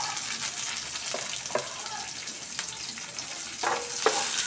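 Onion frying in a pan, with a soft, steady sizzle broken by a few brief scraping stirs, close and fairly quiet.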